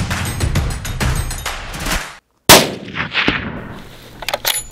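A sharp rifle shot cracks out loudly mid-clip during a Texas aoudad sheep hunt in open country, followed by echoing report and rustling handling noise.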